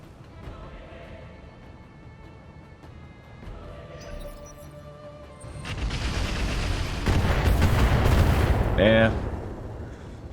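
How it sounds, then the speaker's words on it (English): Indirect artillery fire from mechs in the video game Roguetech Battletech: a rumbling, building barrage of booms and impacts that grows louder toward the end, with a brief spoken word in the clip. "Indirect fire is not particularly accurate."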